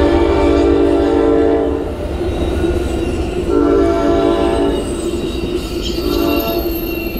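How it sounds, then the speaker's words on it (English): A loud northbound Amtrak passenger train rumbles past nearby, its horn blaring in long sustained blasts over the heavy rolling roar of the wheels. "on the west side track, also going northbound, there's an Amtrak"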